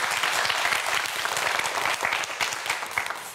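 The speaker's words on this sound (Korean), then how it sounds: "우리 편소정 학생에게도 큰 박수 부탁드립니다" A TV quiz show studio audience claps for a nervous student contestant, a brisk, close burst of dense applause that stays loud and steady for a few seconds with no voices over it.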